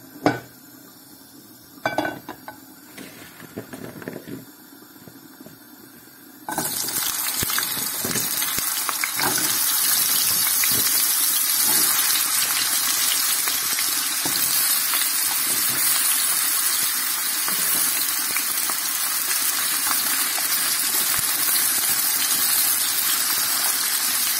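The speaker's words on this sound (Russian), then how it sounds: "Будем жарить картошку." A few clinks of cookware, then a loud, constant sizzle as potatoes fry in hot oil in a pan, cooking to half-done for Tatar-style azu.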